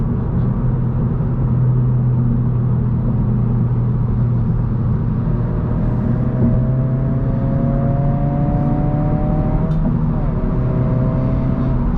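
Steady low engine drone from a 2022 Honda Civic Si while driving, heard from inside the cabin as a continuous smooth hum with gentle rises in pitch as it accelerates, fairly quiet and unaccompanied by talk.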